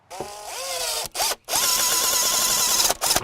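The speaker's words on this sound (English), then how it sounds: "I'm using 3-inch screws on the corners, just so we have more secure hold." A power drill drives 3-inch screws into the corners of a wooden sandbox frame, whining up in pitch and running steadily in several close bursts with short gaps between them.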